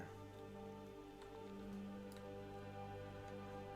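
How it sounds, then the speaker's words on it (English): Ambient rain in the online game World of Warcraft Classic, a soft steady patter with faint scattered ticks over a constant hum, quiet and unbroken throughout. "Playing with the rain."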